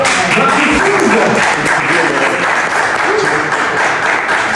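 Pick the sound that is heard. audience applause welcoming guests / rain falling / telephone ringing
audience applause welcoming guests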